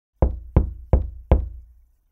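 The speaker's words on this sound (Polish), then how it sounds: "Zapukam." Four firm knocks on a wooden door, evenly spaced and close, each with a short resonant thud, then silence.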